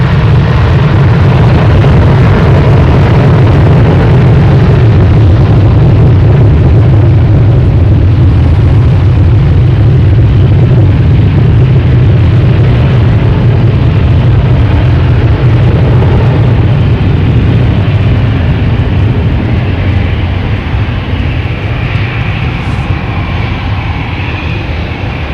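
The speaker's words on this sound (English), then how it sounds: "Is that United taking off finally?" A United airliner takes off at Boston Logan Airport with a loud, unbroken jet-engine roar that holds strong and steady throughout, with no voices over it.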